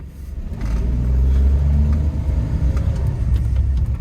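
A modified Suzuki Alto 660cc automatic with its engine running, heard up close as a deep, vibrating low rumble that swells after the first half second and holds steady and loud.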